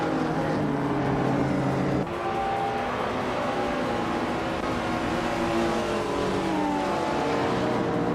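Race cars in a video game roar off the starting line, with a 1973 Lancia Stratos on pole; a dense, continuous engine drone with rising and overlapping whines, steady and loud throughout, briefly dipping after two seconds.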